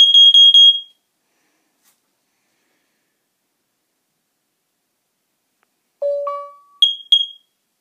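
A Nest smoke and carbon monoxide detector runs its test alarm: a quick burst of four loud piercing beeps, silence, then a chime-like tone pair and two more sharp beeps, close and clean.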